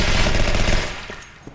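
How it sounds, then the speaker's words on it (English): Rapid gunfire in a first-person shooter video game, a burst of loud shots at barrels in quick succession that fades out within a second or so. "I started shooting these barrels."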